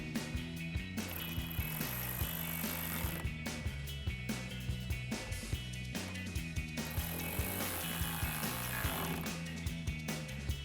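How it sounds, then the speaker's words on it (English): A 10mm socket wrench ratcheting to secure a headlight on a 2009-2018 RAM 1500, giving repeated sharp clicks in a steady rhythm over a constant loud background hum; no speech. "Now we can go ahead and secure it using our 10mm socket."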